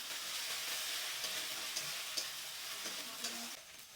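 Ginger garlic paste frying with chopped onions in a pan, a steady close hiss of sizzling oil with faint stirring scrapes throughout, no voices.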